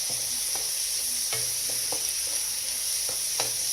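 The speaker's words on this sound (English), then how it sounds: "And now I'm going to add my cheap prawns." Cheap frozen baby prawns go into a pan of fried rice and sizzle steadily. Scattered scrapes and taps from stirring sound close over the constant frying hiss, with no talking.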